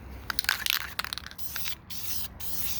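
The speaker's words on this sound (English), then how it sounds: "I'm going to try and spray a little section, maybe right down here" An aerosol spray can hisses in short bursts and then longer passes over a section of a 1969 Corvette body, close and moderately loud with faint scraping clicks.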